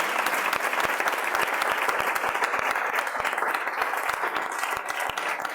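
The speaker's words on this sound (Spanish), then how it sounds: "también yo quisiera que le diéramos otro aplauso" An audience at a televised colloquium in Madrid applauds throughout, dense sustained clapping from many hands at moderate distance, with no speech over it.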